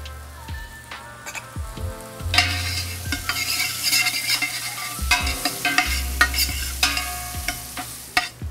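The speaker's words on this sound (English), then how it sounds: "So I think medium is good to saute." Steady sizzle of sautéing in a pan over medium heat, ahead of adding shallots and garlic for a rustic clam dish, punctuated by repeated scraping and stirring clatters, close and fairly loud with no voices.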